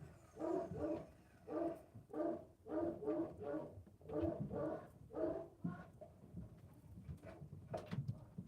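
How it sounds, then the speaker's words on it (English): A dog barks repeatedly in short bursts, fairly close, keeping an uneven rhythm for several seconds before fading into quieter rustling. "They must have somebody outside, the dog barking."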